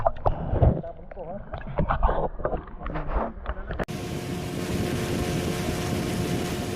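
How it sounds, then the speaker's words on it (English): A boat heads upstream through a shallow, pebbly stretch of the Sungai Tahan in Taman Negara, its steady engine drone and water rush filling the second half after a stretch of talk. "The boat journey then continues on to make its way further upstream of the Sungai Tahan through the shallow pebbly river"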